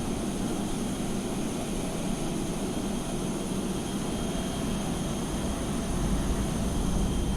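Airbus A320 auxiliary power unit running steadily in Microsoft Flight Simulator, a constant loud turbine hum and broad roar with high whining tones, swelling slightly near the end, with no talk.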